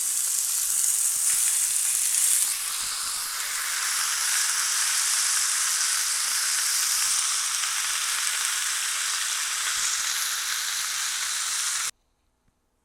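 Beef for cassoulet browns in a pan, giving a loud, continuous bright sizzle and hiss that holds steady for the whole stretch, close up with no talking, before cutting to silence at the end.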